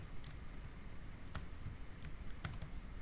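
Keys on a computer keyboard tapped a few times during work in a Debian 9 terminal, light clicks spaced out over a steady background hum, fairly close.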